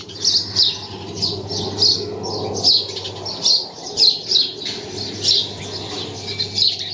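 Repeated bright sparrow chirps in quick bursts throughout, fairly close, over a low steady hum with no talking.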